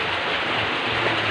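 Heavy rain drums steadily on a corrugated tin roof, a dense continuous hiss with a faint low rumble beneath it.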